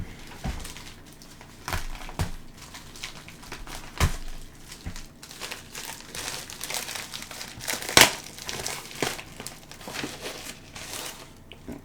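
Packaging around ordered Magic: The Gathering cards crinkles and crackles up close as it is opened, in irregular bursts of rustling with a few sharper snaps, one standing out loudly midway through.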